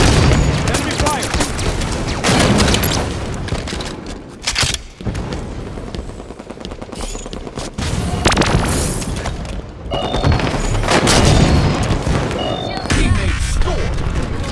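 Gunfire and explosions in a Halo 5 Big Team Battle match on the Traffic Jam map: a loud, constant barrage of shots, booms and crashes fills the whole stretch, with game announcer callouts mixed in.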